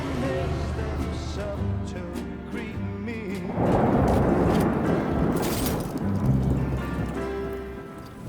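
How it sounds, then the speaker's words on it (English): Rain falls in the Death Stranding 2 video game, with a broad hiss that swells partway through. Music and voices play over it. "Raindrops falling on my head"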